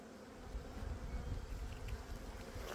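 Honey bees fly around a package hive box being transferred at an apiary, a faint, steady, dense buzzing hum with no talking.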